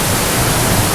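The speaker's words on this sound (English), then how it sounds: "I've got my waterfall right here" A waterfall at a landscape scene gives a steady, broadband rush of falling water, continuous and fairly loud for the whole second with no voices.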